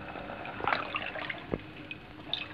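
Water poured into a pot of boiled black chana for curry, a soft splashing pour with a few light drips and a sharp splash partway through, close and fairly quiet.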